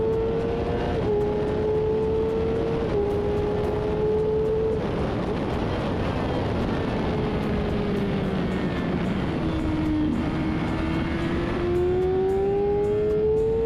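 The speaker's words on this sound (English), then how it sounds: "Then we have to rev match or blip the throttle for a smoother braking experience." Motorcycle engine held at a steady loud drone, its pitch stepping down in small drops before climbing again near the end as the throttle is blipped to rev-match during braking; no talking.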